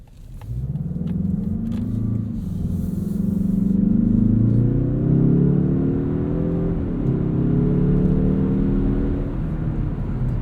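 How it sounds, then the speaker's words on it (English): A 2021 Mazda3 2.5 Turbo AWD hatchback with a torque-converter automatic drives on the road, its engine note rising steadily under acceleration, dipping briefly at a shift, then climbing again over constant road rumble, heard from inside without talk. "Let's take this thing for a drive and see what it's like on the road."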